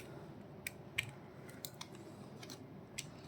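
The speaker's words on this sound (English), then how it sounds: "Now I'm going to cut." Beading wire for a bracelet being cut, giving a few faint, sharp snips and clicks at irregular moments against a quiet background.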